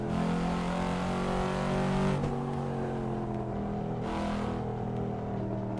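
Cadillac CT5 engine in the Assetto Corsa driving game, a steady mid-pitched drone with strong harmonics that shifts briefly around a gear change and keeps running loud and close throughout, no talking.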